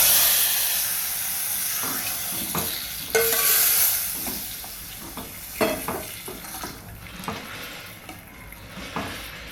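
Tempering for bottle gourd dal frying and sizzling in a pan with mustard seeds and turmeric, a steady hiss up close with repeated scraping stirs of a spoon that settle into scattered clinks.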